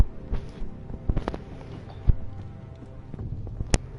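Horse hooves in the Game of Thrones video game, a few scattered clopping steps with sharp knocks, fairly close over a low rumbling backdrop, no voices.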